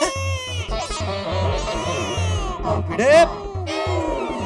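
A small baby cries from a television indoors, short repeated wails broken up under steady talk from people in the room.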